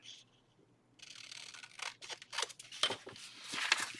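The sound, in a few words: cutting the top off a package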